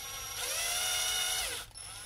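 A power drill fitted with a masonry bit grinds across the grooves of a sharpening stone in one sustained, close, whining pass of about a second and a half, then stops.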